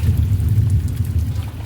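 Heavy monsoon rain pours steadily as a loud, dense low roar with constant rushing texture, close and uninterrupted, with no voices.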